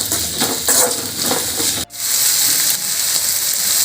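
Potato pieces sauté with salt in a hot pan for a crispy chilli potato dish, a steady close sizzle with scraping stirs and one brief break before the hissing resumes.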